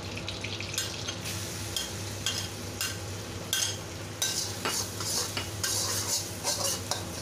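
Fresh ginger sautéed in a pan for Chinese-style green shell mussels, with steady stirring and scraping of utensil against metal over a soft, continuous sizzle, the clinks coming in uneven bursts.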